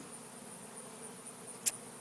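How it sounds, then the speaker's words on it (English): A steady, close insect buzz hums throughout with no talking, the drone of many bees flying in and out of a hive entrance holding an even level, plus one brief high click near the end. "the bees are really coming in and out of there and hauling the stuff in there"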